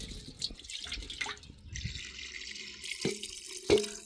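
Water running and splashing as about two tumblers are poured into a clay pot of mutton gravy, with drips and clinks of a vessel, fairly close and moderately quiet, no talking.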